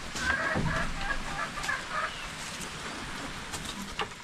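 Chickens cluck in a loose series of short, bright calls over steady outdoor background noise, the clucking fading after the first couple of seconds.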